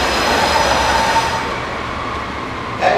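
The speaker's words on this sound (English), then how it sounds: "The train arrived." A train rolls into a station with a loud, steady rumble of wheels and carriages, a faint high squeal running through it and a brief clank near the end, with no voices.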